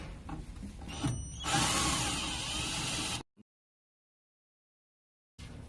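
A power drill backs two screws out of a vending machine during an infrared sensor replacement. The whirring runs steadily and close for about three seconds, then cuts to silence before a brief return at the end.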